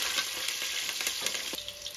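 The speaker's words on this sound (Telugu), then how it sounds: "ఇప్పుడు దీంట్లోకి కొద్దిగా జీలకర్ర, కొద్దిగా మినప్పప్పు, కొద్దిగా శనగపప్పు, ఈ మూడు కాస్త వేగిన తర్వాత" Cumin, urad dal, chana dal and curry leaves sizzle in hot oil for a tempering, a steady, fairly quiet frying crackle with a few brief stirring bursts and no talk.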